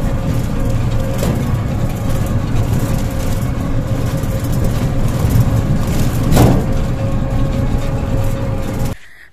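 Steady low rumble of a road vehicle while riding an e-rickshaw (toto) along a rough market road in summer, continuous and fairly loud with a brief rattle or bump midway, no speech.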